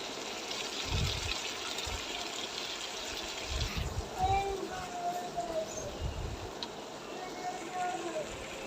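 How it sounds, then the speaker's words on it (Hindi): Chili sauce and soy sauce pour into a cooking pan of frying masala for a chicken macaroni and spaghetti dish, giving a steady liquid gush and trickle with low bumps from the pan. "चिली सॉस, सोया सॉस डालेंगे इसमें,"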